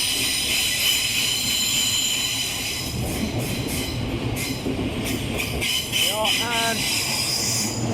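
A long Thameslink train rolls through London Bridge station, a loud steady rumble of wheels on rail with metallic squeals rising near the end and a brief voice in the background.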